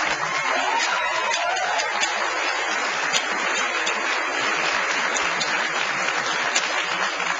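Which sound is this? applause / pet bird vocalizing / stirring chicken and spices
applause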